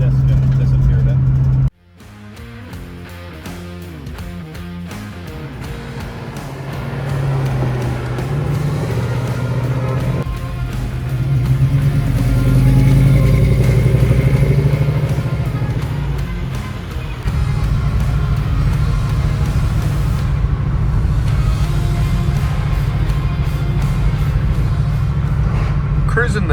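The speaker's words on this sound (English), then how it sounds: "Cruising this bumpy back road at 45." A 1968 Ford Country Sedan cruises a bumpy back road at about 45 mph, its engine rumbling loud and steady from inside the cabin, with the drone rising and easing as it drives and people talking over it.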